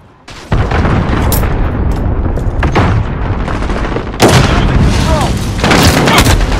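A missile launches and explodes in Call of Duty: Modern Warfare on the Talsik Backlot map, with loud booming blasts and rolling gunfire stacking into a heavy, sustained barrage.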